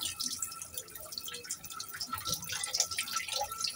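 A pet duck bathes in water, with soft dripping and light splashing trickling steadily throughout at close range, no talking over it.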